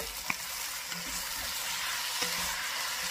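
Shrimp stew with okra sizzles steadily in a pot while being stirred, a constant close frying hiss with a few faint spoon knocks against the pot.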